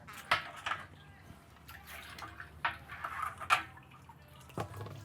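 Water in a boat's live well sloshes and drips as a live eel is scooped out with a net, with several small splashes close by.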